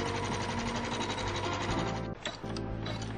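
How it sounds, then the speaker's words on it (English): An embroidery machine doing fill stitch over half of a fabric 3D leaf in a hoop, a steady close whirring, rapid stitching rhythm running continuously with a brief dip near the end. "So here we are stitching step 2 of our 3D leaf, and it is just doing a little fill stitch over 1/2 of the leaf"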